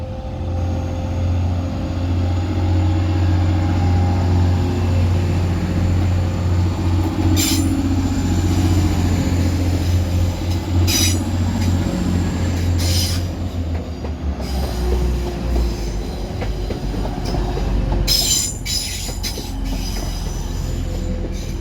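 Class 185 diesel train pulling out of Manchester Piccadilly station, a loud steady engine drone with wheel squeal and clanking from the rails that builds as it departs.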